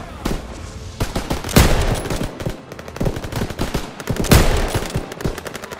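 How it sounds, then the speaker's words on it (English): Machine guns open fire in a WWII shooter battle, rapid sustained bursts of automatic gunfire with several louder nearby shots standing out, continuous and loud throughout. "MGs, open fire!"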